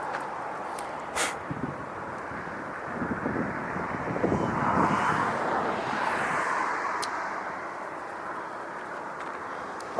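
An Airbus A320-200 in Star Alliance livery, bound for San Salvador, lines up at an airport with a distant jet roar that swells in the middle and fades, mixed with wind buffeting the microphone.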